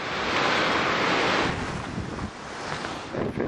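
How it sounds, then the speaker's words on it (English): Strong hurricane wind from Hurricane Ike roars steadily as a loud broadband rush close to the microphone, easing slightly midway and then gusting again near the end, with no one speaking. "It's a pretty heavy wind right there."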